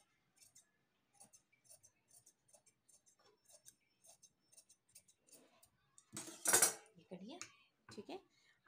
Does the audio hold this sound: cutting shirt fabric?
yes